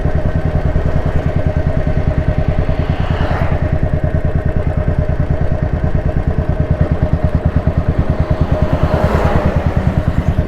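A Royal Enfield Standard 350 fitted with a glass full silencer exhaust rides along with a steady, loud thumping single-cylinder beat throughout, no voices over it.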